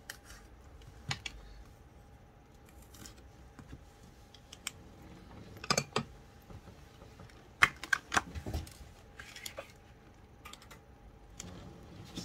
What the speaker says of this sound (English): so I can flip through real quick